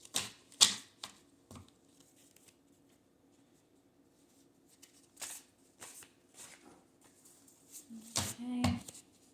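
Playing cards are shuffled out of view in short, crisp riffling bursts separated by quiet gaps, fairly close, with a voice talking lightly between them.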